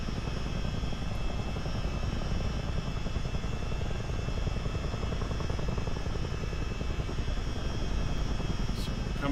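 Steady, droning rotor and turbine roar of a CH-47D Chinook helicopter in a flight simulator, continuous and even-level throughout with no pauses.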